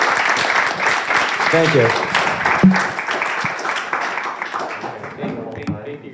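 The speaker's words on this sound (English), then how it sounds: "Big round of applause for our two guests today" A podcast audience applauds two departing guests, a broad steady wash of clapping that runs the full length while voices exchange thanks over it.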